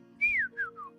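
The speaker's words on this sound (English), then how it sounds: "I couldn't really whistle." A person whistles a short three-note phrase, a sustained high note gliding down, then two briefer descending notes, clear and close against a faint steady hum.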